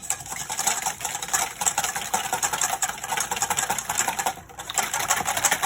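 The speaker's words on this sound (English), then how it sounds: "I'm gonna whisk it till it's frothy" Eggs, vanilla and salt are whisked in a bowl until frothy, giving a continuous, fast, rhythmic scraping and rattling at moderate loudness with no one talking.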